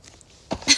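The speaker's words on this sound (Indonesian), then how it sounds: "Batuk." A young woman coughs twice in quick succession near the microphone during an indoor livestream chat, a short muffled cough followed by a louder, harsher one over faint room noise.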